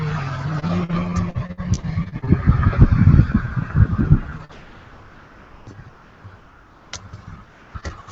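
Road traffic rumbles past in the city of Batavia, New York, a loud passing vehicle roaring for several seconds before fading, followed by quieter ambient street noise with occasional faint clicks.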